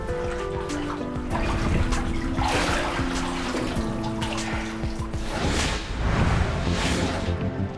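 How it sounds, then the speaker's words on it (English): Water sloshes and splashes as a woman is bathed in spring water from St. Bernadette's spring, with steady pouring and swishing in waves over a soft tonal background and no talk. "She was taken to bathe in the water from St. Bernadette's spring."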